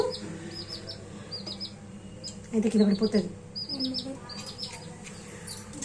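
Chicks chirping in quick, high peeps throughout, with a person talking briefly partway through and some soft fluttering nearby.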